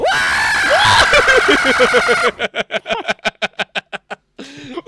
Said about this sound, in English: Blood curdling scream.